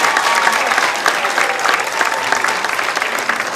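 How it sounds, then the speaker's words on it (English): Audience applause at a middle school talent show: a steady, full round of clapping from a crowd, loud and sustained with some individual claps standing out. "can we give them a huge round of applause?"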